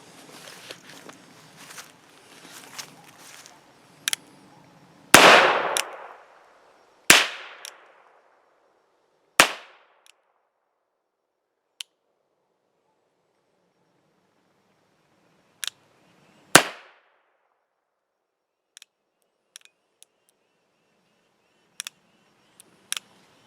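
An NAA cap and ball revolver loaded with 4.5 grains of 3F Go-X powder and Remington number 11 caps fires several sharp, widely spaced shots with short ringing tails, mixed with faint clicks and handling noises between them.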